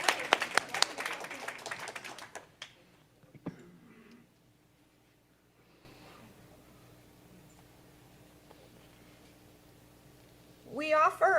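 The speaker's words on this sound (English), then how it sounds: "A round of applause for everyone." Applause from a service congregation opens the clip in a dense burst of clapping for the first two seconds, then fades to quiet room tone with faint movement; a short renewed rustle or clap rises at the very end.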